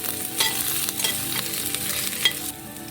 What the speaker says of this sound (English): Roast the ginger.